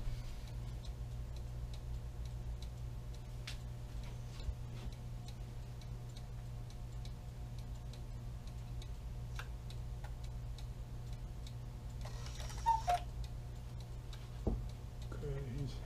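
A cuckoo clock with a music box ticks steadily and faintly under a low hum, with a few louder clunks and handling noises near the end. Some quiet speech can be heard.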